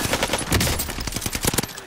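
Rapid bursts of automatic gunfire from a mounted no-recoil KG machine gun in a battle royale shooter game on Caldera, loud and close in a dense rattling stream.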